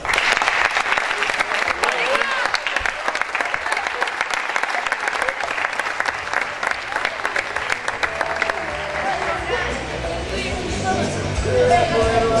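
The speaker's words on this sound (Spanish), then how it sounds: "Un aplauso." Sustained applause from a crowd at a football club awards celebration, dense and steady clapping for the whole stretch with a faint murmur of voices beneath.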